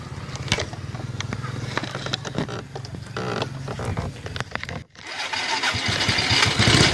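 A motorcycle engine sputters and catches, settling into a loud, steady running roar after a brief pause, with voices speaking over the start.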